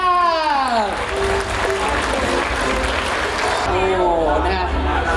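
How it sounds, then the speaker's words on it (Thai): Crowd clapping at a national Children's Day ceremony in Thailand, a steady loud wash of applause, with amplified speech over the start and end. "ขอเสียงปรบมือดัง ๆ อีกครั้ งหนึ่งค่ะ"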